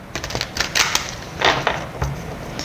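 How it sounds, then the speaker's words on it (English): Tarot cards being shuffled give off quick, crisp flicks and riffling bursts that come in irregular clusters, close and fairly clear, with no speech. "one more shuffle"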